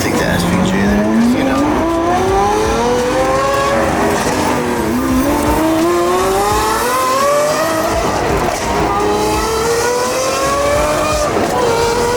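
Lamborghini SVJ driving hard, the engine revving up and down in rising sweeps with tires squealing and skidding continuously, loud and close throughout.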